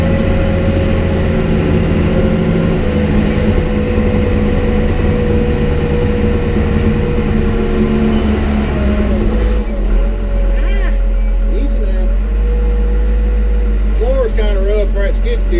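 A skid steer loader's diesel engine runs steadily and loudly nearby with a constant low drone, while a person talks over it in the second half.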